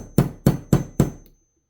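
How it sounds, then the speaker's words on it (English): Four evenly spaced, sharp metallic strikes of a hammer driving a punch into a Beretta 90 series pistol part, close and crisp, each ringing off briefly before silence. "Now I'm going to take my punch and get it in there. And just a couple more whacks."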